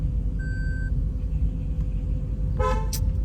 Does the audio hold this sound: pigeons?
no